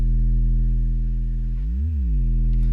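A bendy synth bass built in Serum from a lone sub with distortion, chorus and filtering, holding a deep sustained tone that swoops up and back down in pitch near the end, loud and alone.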